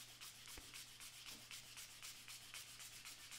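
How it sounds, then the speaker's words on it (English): Light hand sanding of a soft aluminum pedal enclosure with 150-grit sandpaper wrapped on a rubber block, a steady rhythm of quick scratchy back-and-forth strokes, close and fairly quiet, with a low steady hum underneath and no talking. "I'm going to do some light sanding here."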